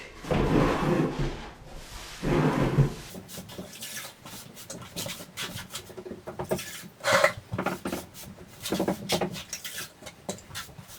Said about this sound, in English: I'm going to wipe down the substrate and get dust and give it a drink.